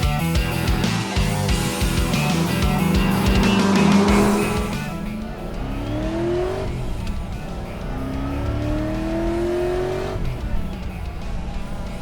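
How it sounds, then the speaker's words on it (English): Supercharged forged small block V8 muscle car with a 5-speed manual, loud rising revs and supercharger whine, first a sustained roar, then two sharp climbing revs alone. "That forged small block V8, that supercharger whine"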